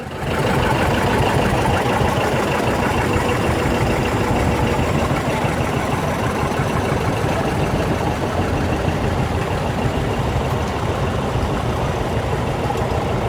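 A 1953 Farmall tractor engine idles at a parade, a steady, loud, rough low rumble with a chugging, knocking texture that holds unbroken throughout, with no voices over it.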